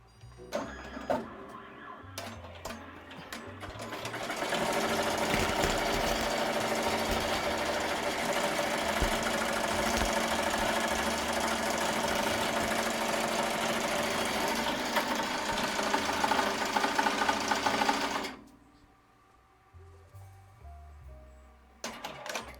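A sewing or embroidery machine stitches continuously for about fourteen seconds, a steady loud mechanical whir with rapid needle rhythm, starting and stopping abruptly, with quieter handling noises before and after.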